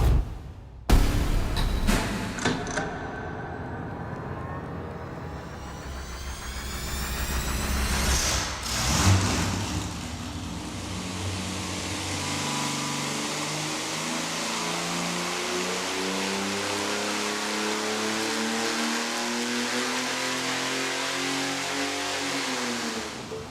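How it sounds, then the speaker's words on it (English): A Slant 6 six-cylinder engine on a dyno cranks, catches and runs loudly, revving up and then settling into a steady, buzzing drone close by. "let's fire this bad boy up and make some buzzing sounds. All thundering 6 cylinders."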